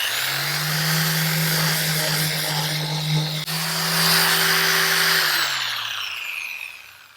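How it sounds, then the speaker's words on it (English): An electric sander scuffs the glossy gel coat off a fiberglass surface, a steady loud whine that holds for about five seconds before winding down and fading out; no one speaks. "I'm just going to use my electric sander here just to take off that shine"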